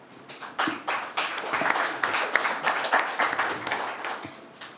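Audience applause fills a community candidates' forum hall, many hands clapping in a dense, steady wash that swells in bursts and carries on for several seconds with no voices over it.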